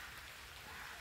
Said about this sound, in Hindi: अभी तो बारिश हो रहा है थोड़ा थोड़ा